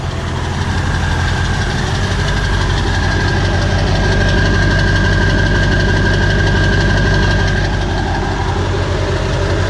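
A heavy 7.3 diesel truck engine idles steadily and loudly, with a deep rumbling knock and constant vibration throughout, no voices.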